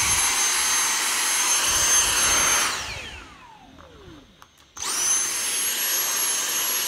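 A Dyson DC59 cordless vacuum cleaner runs with a loud high-pitched motor whine, spins down and goes quiet for a couple of seconds, then revs back up to full speed.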